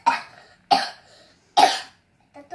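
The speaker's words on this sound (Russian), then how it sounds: "Я просто болею, кашляю." Three loud, close coughs from a sick person, spaced evenly with short silences between them, followed by a faint vocal sound at the end.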